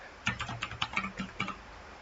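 A computer keyboard clicks out a short burst of about eight quick keystrokes as a name is entered into a meeting app, close and fairly quiet, with no voices.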